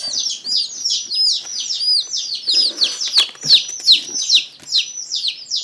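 Mail-order baby chicks, including Polish and Brahma breeds, peep in a dense, continuous chorus of high, overlapping chirps, close and fairly loud throughout.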